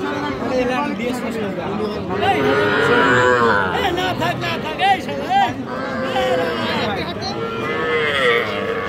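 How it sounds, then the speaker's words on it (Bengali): Young heifer and bull calves mooing at a busy cattle market, several drawn-out bellows rising and falling in turn over a constant background of crowd chatter and nearby talk. "এই গরুগুলি কিন্তু বকনা গরু।"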